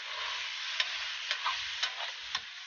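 June bug larvae (abaling) are stir-fried in a pan: a soft, continuous sizzle broken by four or five evenly spaced scrapes of a spoon, with no voices.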